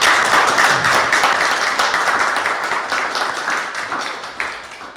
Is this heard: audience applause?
yes